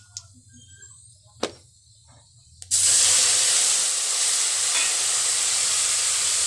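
A spice paste of tomato, coriander seed, cumin and mustard hits hot oil in a pan and erupts into a loud, steady sizzle after a few quiet clinks, hissing continuously to the end.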